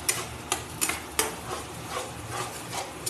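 Spice paste being stirred and sautéed in a pan with splashes of water, with a low sizzle under rhythmic scraping and a series of sharp spatula knocks against the metal.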